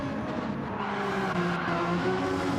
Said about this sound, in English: Did hear the tyres squealing